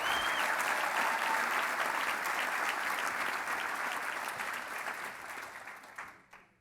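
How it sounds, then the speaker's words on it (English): A luncheon audience at a keynote event applauds in a sustained, steady wave of many hands clapping together, holding strong for several seconds before tapering off and stopping abruptly. "so give her a big round of applause"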